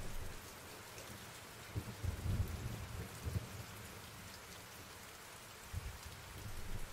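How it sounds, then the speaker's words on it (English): Steady soft rain falls at night on a city street, an even hiss with low distant rumbles of thunder swelling a few times in the background. "the rain starts coming down harder so that your footsteps make little slaps and squelches on the sidewalk"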